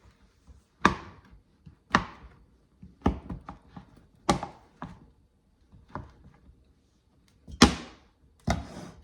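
Knife chopping through beef fat on a cutting board before it is rendered into tallow, with about a dozen sharp, irregular chops, some loud and close, others lighter, separated by short pauses.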